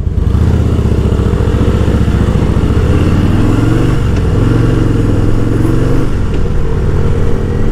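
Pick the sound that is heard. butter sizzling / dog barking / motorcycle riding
motorcycle riding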